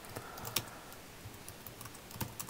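Rapid typing on a computer keyboard while entering a query in browser dev tools, a steady patter of close, crisp key clicks with a few sharper louder strikes and no voice.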